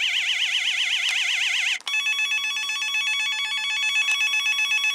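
A Firebolt Batman Returns '92 deluxe toy's electronic bat phone rings loudly on its own, first with a fast warbling trill, then with a steady, buzzy ringing tone.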